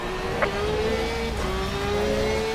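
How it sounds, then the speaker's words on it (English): On a track in Assetto Corsa Competizione, a race car engine hums steadily and climbs slowly in pitch while a faster car closes in from behind. A small click cuts through early on. No voices are heard. "Faster car coming down behind you."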